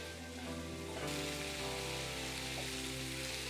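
Pumpkin pieces fry in hot oil for a Tamil pumpkin curry, giving a steady, loud, close sizzle that never pauses, with no voices over it.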